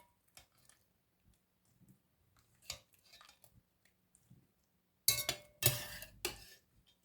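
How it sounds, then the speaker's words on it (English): Cooked vegetables are spooned from a pot into a dish with cutlery. Faint scattered clinks and scrapes come first, then a louder close burst of metal scraping and clattering on the dish near the end. "just taking all the veg out. Popping it in the dish."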